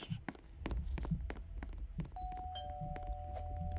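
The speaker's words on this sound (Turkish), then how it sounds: "Zil çalıyor bunun." A doorbell rings inside a Roblox Brookhaven house, a clear electronic chime holding its tone near the end, following a run of soft thumping footsteps; the level is quiet overall.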